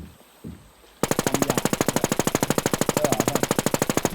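Rapid automatic gunfire from a video game, a long steady burst of evenly spaced loud shots that starts abruptly after a short quiet moment and runs without pause to the end.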